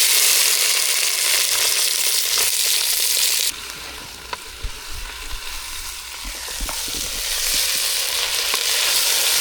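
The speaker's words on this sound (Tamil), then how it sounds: "எண்ணெய் எல்லாம் சூடாக இருக்குது இப்போ பிரண்டையை வதக்கி எடுத்துக்கலாம்" Pirandai (adamant creeper) sautés in hot oil, first with a loud hissing sizzle that drops to a softer crackle, broken by scraping stirs and knocks of the spatula, close and alone.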